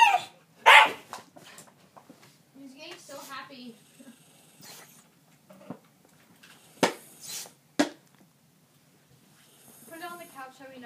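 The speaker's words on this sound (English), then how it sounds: "She's growling at him." A dog growls and barks in short bursts at close range, with sharp yaps breaking through a low rumbling growl, while people talk and shout over it indoors.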